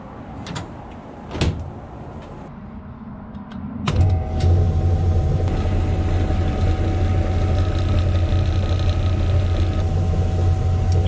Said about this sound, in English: That's pushing the vise into the saw blade, which is spinning quite fast.